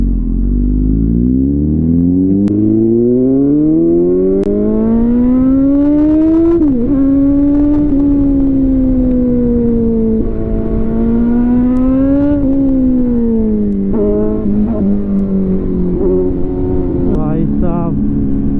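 A Kawasaki Z900 motorcycle engine on a highway, revving loud and close in a long rising howl that climbs, dips with gear shifts and climbs again, sustained and raw throughout.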